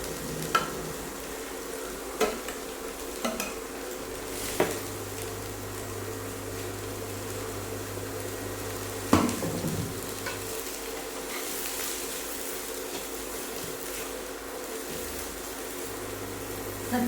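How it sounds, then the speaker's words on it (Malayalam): Cut green beans frying for a Kerala thoran, stirred in a pan on an induction cooker after mustard seeds have popped: a steady close sizzle runs throughout, with scattered scraping clicks from the spoon and no talk. "കടുക് പൊട്ടിക്കഴിഞ്ഞാൽ നമുക്ക് നമ്മുടെ കട്ട് ചെയ്ത സാധനം നമുക്ക് ഒഴിച്ചിട്ട്"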